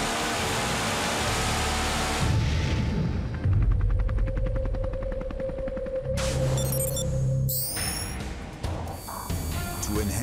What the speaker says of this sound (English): We have the SeaWiz, which I think is one of the scariest guns ever made.